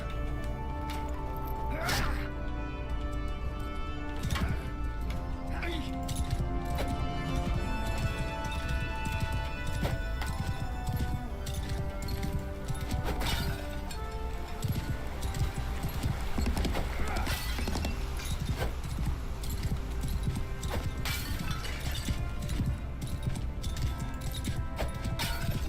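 Horse hooves clip-clop steadily in Mount & Blade II: Bannerlord, a continuous rhythmic trotting over a dense game soundscape with occasional whinnies.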